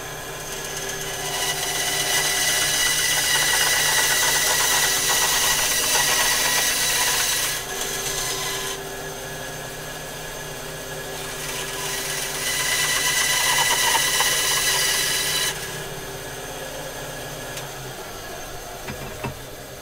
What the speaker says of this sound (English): let's go ahead and run this through the bandsaw